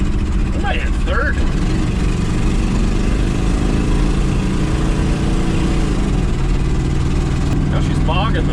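An old 1970 GMC truck engine, rescued from a junkyard, runs hard while driving, a loud, rough, low drone that sags and struggles. A voice talks briefly over it near the start and end.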